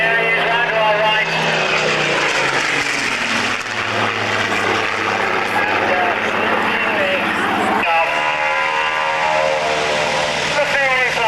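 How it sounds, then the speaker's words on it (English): A Spitfire aircraft roars past at an air pageant with a loud propeller engine drone that rises and shifts as it passes. A person talks over the engine noise. "That was the Spitfire's last pass."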